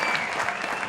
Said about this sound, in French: on va encore applaudir très fort, s'il vous plaît, Mambi Diomandé.